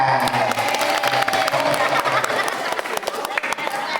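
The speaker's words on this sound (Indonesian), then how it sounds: "Tepuk tangan." An audience at a religious talk in Indonesia claps steadily in a dense, sustained round of applause, with crowd chatter and voices mixed in throughout.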